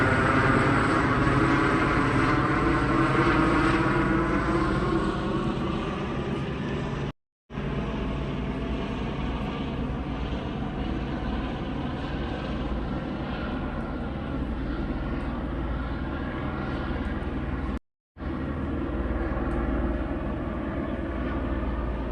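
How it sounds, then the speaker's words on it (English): A continuous, heavy engine drone of police helicopters overhead during a police pursuit in Irvine, California, loud and steady, with a rumbling low hum that barely changes. "I don't know if there are two police helicopters or if that's police and news"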